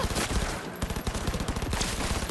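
Rapid gunfire from guns in Cyberpunk 2077, a dense, continuous burst of shots in quick succession, loud and sustained across the whole stretch with only brief dips.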